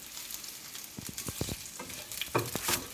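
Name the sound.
rice rostis with sesame seeds frying in a pan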